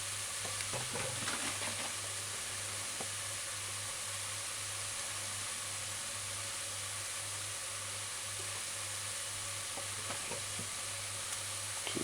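Ground beef mince frying for taco meat, a constant loud sizzle with occasional scrapes as the meat is stirred and broken up in the pan, no voices.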